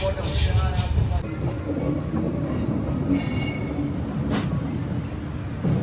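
A passenger train runs loudly along the track, a continuous rumble with wheel squeal and clatter, and a brief burst of noise near the start.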